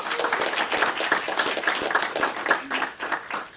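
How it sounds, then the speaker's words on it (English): A room of people applauds, a dense burst of clapping that stays lively and uneven throughout with no voices standing out. "Round of applause."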